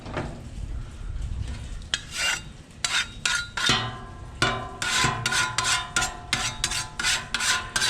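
Metal spatulas scrape and rasp across a Blackstone griddle in repeated quick strokes, each a gritty metallic swipe with occasional clanks, close and loud with a faint sizzle beneath.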